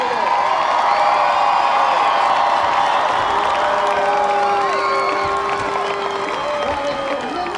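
A crowd at a 2011 Ohio Division 2 high school football state championship cheers, whoops and applauds loudly and continuously, with shouts and whistles rising over the roar as it slowly eases off.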